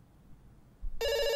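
After a quiet moment, a telephone bell starts ringing loudly in a video game, a bright sustained electronic ring close to the listener.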